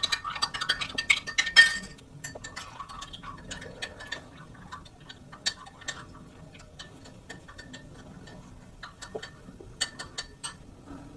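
Light, irregular clinks of a utensil against a container while detergent powder is mixed, with a brief louder flurry of taps at the start and sparse, quiet ticks afterwards.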